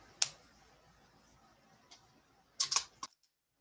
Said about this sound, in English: so I'm going to just trim that.